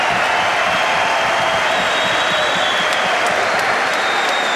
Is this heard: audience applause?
yes